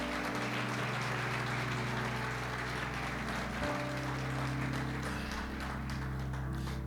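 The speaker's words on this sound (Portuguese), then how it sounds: "Você pode aplaudir o Senhor bem forte aí?" A church congregation applauds during a worship service, a dense, sustained wash of clapping blended with a continuous musical backing hum, loud and steady from start to finish.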